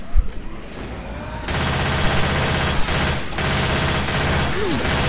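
Sustained automatic gunfire from Left 4 Dead 2 erupts after a short pause, a loud dense rattling burst that continues without break, with a few isolated shots before it.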